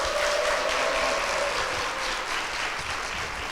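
A church congregation claps steadily throughout to welcome a mother-in-law deaconess and her three sons on stage, a dense, sustained wash of applause with no speech over it.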